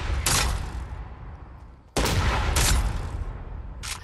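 Proximity grenade launcher rounds bursting in Fortnite, two loud booming blasts roughly two seconds apart, each a dense roar of explosion noise that rumbles and fades, with a sharp crack near the end.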